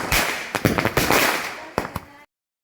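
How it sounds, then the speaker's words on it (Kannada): A firecracker is lit and bursts at a village Ganesh Chaturthi celebration, giving a loud rapid series of sharp crackling pops for about two seconds before cutting to silence. "ಎಷ್ಟು ಹೈಟ್ ಹೋಗೋದು ನೋಡ್ರಿ ಪಟಾಕಿ ಹಚ್ಚಿದ್ದು"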